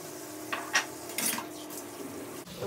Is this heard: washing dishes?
yes